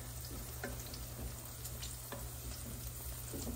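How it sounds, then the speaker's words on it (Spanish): Steady sizzling and frying as charred tomato salsa cooks with egg in a clay pan, with a few soft stirring scrapes and no voices. "Entonces echarle la salsita, miren."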